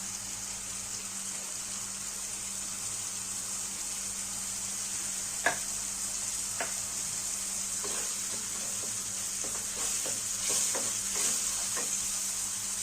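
Ginger garlic paste frying with tomato for matar paneer, a steady soft sizzle and hiss with occasional spoon scrapes and taps on the pan, heard close and without speech.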